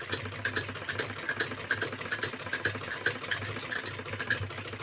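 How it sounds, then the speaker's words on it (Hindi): A sewing machine runs a double seam on a lined 36-size blouse, with a steady, rapid mechanical stitching rhythm that is close and continuous throughout, and no voices. "जब हम डबल ट्रिपल सिलाई डाल देते हैं"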